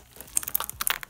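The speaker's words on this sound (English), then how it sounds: "when the sound of poking, stretching, or like crunching the slime is so satisfying" Slime being poked and crunched by hand, a quick run of close, crisp crackling and squishy pops.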